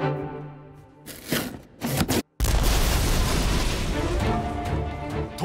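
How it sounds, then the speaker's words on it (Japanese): Explosion in a Japanese film trailer for a serial bombing at a giant shopping site's distribution center on the eve of Black Friday: a sudden loud blast after a brief drop to silence, followed by sustained dense roaring rumble. "突如起きた爆発事件。"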